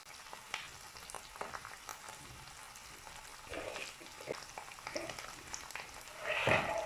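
Peppered gizzards with white onion sizzle softly in a pan over the fire, a faint, steady frying crackle with a few brief louder pops toward the end.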